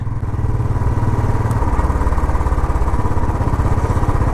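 A motorcycle engine running steadily while riding, a loud continuous mid-pitched drone with a slight throb and no talking.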